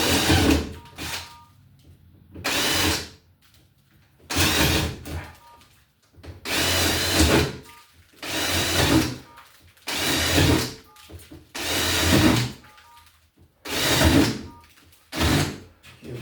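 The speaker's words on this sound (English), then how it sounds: "Yeah, we're going to do some more drilling here." Several bursts of power drilling into a metal electrical box, each lasting one to two seconds, separated by short pauses, close and loud with a harsh whine.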